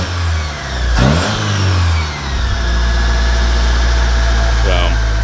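1970 Datsun 521 pickup engine fitted with FiTech fuel injection, running close and loud, with a brief revving swell early on before it settles into a smooth, even idle.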